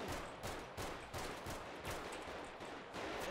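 Bursts of rapid video game gunfire, fairly quiet overall, firing in repeated clusters with short gaps between volleys.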